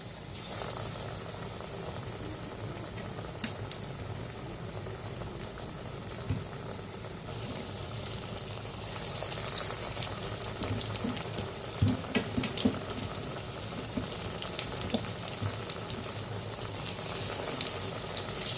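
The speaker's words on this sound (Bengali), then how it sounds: "তো তেলটা গরম হয়ে গেছে, তো এক এক করে বড়াগুলো ছেড়ে দিই।" Ridge gourd fritters go one by one into hot refined oil in a wok, raising a quiet, continuous bubbling fry with scattered small pops and clicks, close by and without talk.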